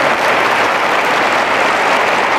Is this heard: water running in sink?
no